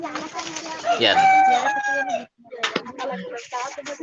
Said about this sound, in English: Did I just hear a rooster?